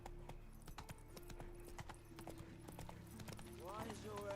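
Roach the horse trotting in The Witcher 3: quick, even hoofbeats clip-clopping close by in a steady rhythm, with a soft low game ambience beneath and a person talking over it near the end.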